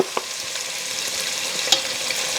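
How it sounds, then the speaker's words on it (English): Shrimp frying in a pan as curry powder is stirred in, a steady broadband sizzle with a few light clicks of a utensil against the pan, close and alone. "curry powder, just stir it up."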